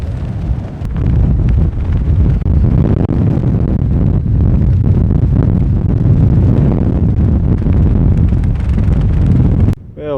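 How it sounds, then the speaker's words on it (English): Strong wind on a campsite high on Suilven in the Scottish Highlands buffets the microphone with loud, continuous roaring gusts for the whole stretch, rising and dipping in force, with no speech. "Without a doubt that wind is definitely picking up."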